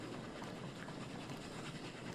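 Steady rumbling clatter of a train ride in the video game Oddsparks, a continuous rolling rail noise held at an even, moderate level with no talking over it.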